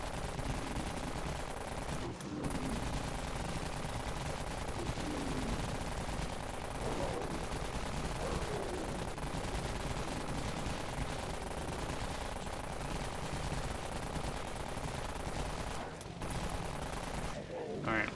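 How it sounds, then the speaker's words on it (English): Dense, continuous automatic gunfire from a weapon in the Dead Frontier video game, loud and sustained with only brief breaks, a rapid unbroken rattle of shots. "I'll shoot like one more mag and then we're gonna switch guns."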